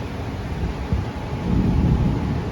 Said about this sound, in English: here comes that rain